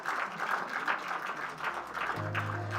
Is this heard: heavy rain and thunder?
no